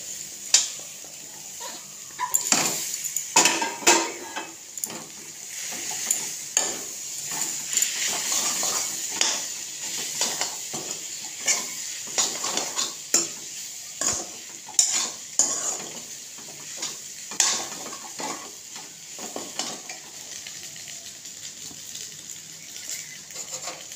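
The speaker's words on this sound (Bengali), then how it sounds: "এখন আমি পাস্তাটা ছেড়ে দেব।" Pasta tossed into a pan of half-fried vegetables, a continuous sizzle under frequent rapid scraping and clattering of a spoon against the pan as it is stirred, loud and close with no speech.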